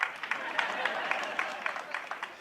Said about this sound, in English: You better clap.